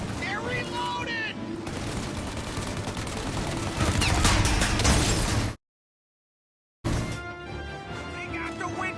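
Game gunfire in Mafia Definitive Edition: sustained bursts of shots and crashing impacts, loud and close and building in intensity, then a sudden silence before the shooting resumes, with music-like tones layered beneath.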